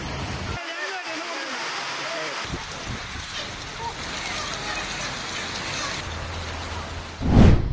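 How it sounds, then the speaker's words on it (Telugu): Heavy rain pours in Hyderabad as a dense steady roar, mixed with a voice speaking throughout and a louder burst at the very end. "వర్షం భారీగా కురిసింది"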